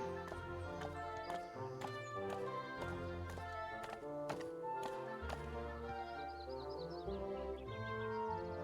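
Rhythmic clip-clop hooves of a small wooden horse carrying a soldier in the cozy medieval city-builder game Let Them Trade, steady taps running throughout beneath continuous bright game music.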